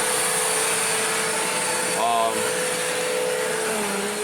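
A Bissell CleanView vacuum cleaner runs with a loud, steady whine and airflow roar, briefly changing pitch partway through as a voice speaks over it.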